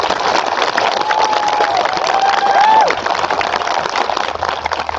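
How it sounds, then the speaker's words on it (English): Sustained audience applause at a school graduation ceremony, dense and steady clapping throughout with a brief whistle or cheer near the middle. "Let's give those students a round of applause"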